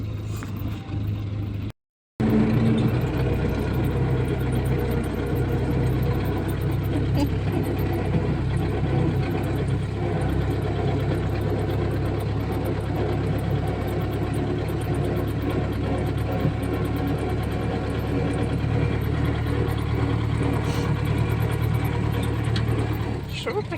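A steady engine drones close by with a low rumbling idle, running continuously after a brief cut near the start.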